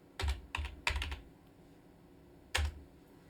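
Short bursts of computer keyboard typing, several quick clustered keystrokes, a brief pause, then one final burst, close and fairly clear in a quiet room, with no speech.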